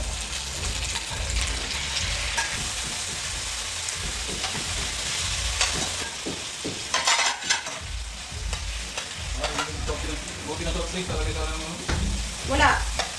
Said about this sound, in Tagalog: nagisa na ako ng sibuyas, bawang at kamatis para naman sa lulutuin ko na ginataang pusit